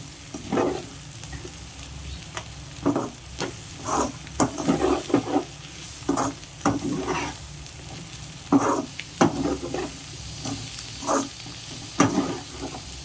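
Broad beans (chikkudu kaya) stirred and fried in a pan, a continuous sizzle broken by repeated scraping stirs every second or so, close and steady with no speech.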